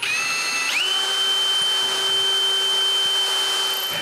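A power drill bores pilot holes through wood for door hinges, whining at a steady high pitch that rises briefly as it spins up, then holds loud and even.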